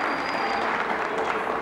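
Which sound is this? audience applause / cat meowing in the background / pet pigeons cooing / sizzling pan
audience applause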